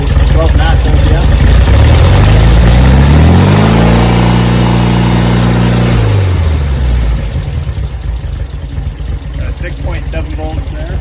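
VW Beetle engine revved hard to maximum RPM, a loud rising roar that climbs in pitch, holds high, then drops back to a rough idle.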